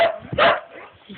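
A rescue dog gives a short bark or yip, close and fairly loud, while a person speaks softly to it in a gentle, praising voice.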